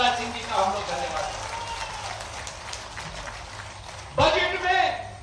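Audience applause at an airport foundation-stone ceremony in Rewa, India, with clapping swelling under a speaker's amplified voice and then rising in a louder burst near the end.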